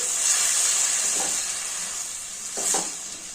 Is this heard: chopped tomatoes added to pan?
yes